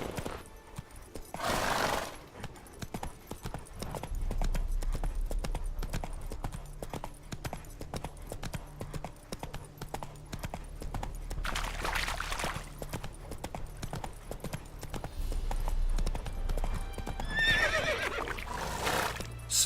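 Roach, the horse in The Witcher 3, galloping with rapid continuous clip-clop hoofbeats, punctuated by a few neighs and whinnies, moderately loud and close with little talk.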